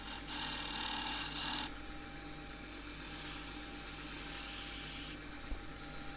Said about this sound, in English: Just shear scrape around the top there